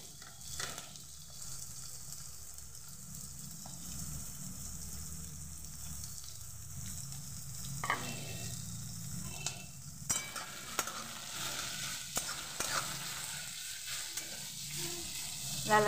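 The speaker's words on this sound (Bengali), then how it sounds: "লাল লাল করে পুরো ভেজে নেব।" Two large chopped onions sizzle in hot oil after potatoes were fried, with a steady frying hiss and occasional scraping stirs of a spatula, close up and without talk.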